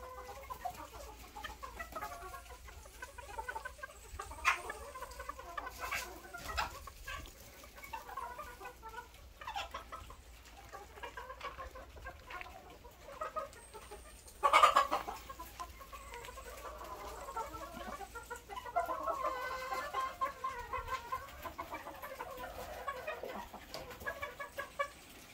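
Gamecocks in a rooster yard cluck and murmur continuously at moderate distance, with scattered louder calls and one brief sharp squawk partway through.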